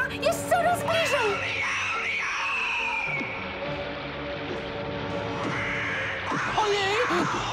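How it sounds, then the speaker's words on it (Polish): A crow caws harshly in a Smurfs cartoon, several loud rasping calls at the start and again near the end, mixed with cartoon voices and background music. "Jej, jaki straszliwy ptak!"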